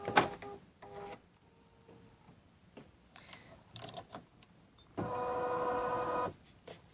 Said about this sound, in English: the machine has finished tacking down our batting